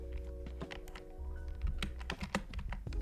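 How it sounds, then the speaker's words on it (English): Typing on a computer keyboard while designing a flyer in Adobe Photoshop, with rapid, close key clicks in an uneven run over a low steady hum. "you can go online and type in something like bullet point,"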